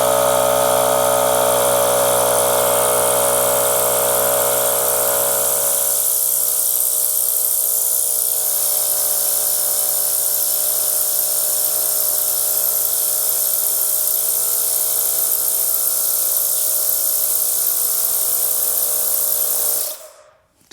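Astro AI cordless tire inflator pumping up a flat bike tire, a loud steady motorized drone with a constant pitch that runs for about twenty seconds and then cuts off abruptly.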